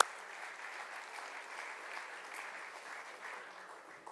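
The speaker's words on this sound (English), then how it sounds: "A big round of applause for the Krishna family." Audience applause at a company silver jubilee celebration, a steady wash of clapping heard from some distance and fairly faint, continuing without pause for several seconds.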